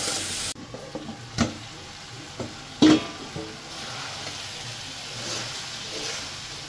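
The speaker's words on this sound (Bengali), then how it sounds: "এখন আমি একসাথে সব কিছু কষাই নেব।" Dried lote fish sautéing together with pointed gourd, potato and eggplant crackles softly in a pan, broken by a few sharp scrapes and clinks of stirring over a low sizzle.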